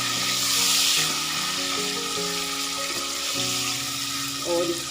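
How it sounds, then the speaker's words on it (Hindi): Finely chopped tomatoes frying in hot oil in a pan for a lady finger (bhindi) dish, a loud, steady close sizzle that holds throughout with little change. "इस टमाटर को इसमें ऐड कर दूँगी और इसको 2 से 3 मिनट इसमें फ्राई कर लूँगी"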